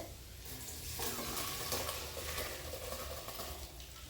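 Oil heating with ginger in a pan gives a steady, moderately loud sizzle and crackle, with a few brief scraping stirs and no voices.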